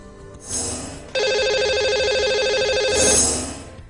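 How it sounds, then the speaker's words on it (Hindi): A telephone rings on a radio show as a call is placed to a lucky caller, one long, loud, steady electronic ring lasting a few seconds. "तो अब इन्हें हम लगाएंगे कॉल"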